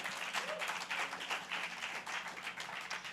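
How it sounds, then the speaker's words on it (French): Church congregation clapping in praise, a fairly faint, steady patter of many hands with a loose rhythm throughout, with a voice briefly heard over it. "Give the Lord a clap of praise."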